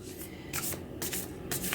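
Quick shuffle of a tarot deck, soft papery riffling and rubbing that swells in three brief bursts close to the mic.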